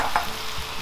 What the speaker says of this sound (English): I'm going to add in our cabbage